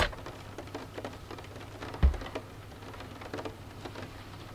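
Rain falls steadily on a camper van parked on the west coast of Scotland, a soft continuous patter on the roof with one louder knock partway through, heard from inside with no talking.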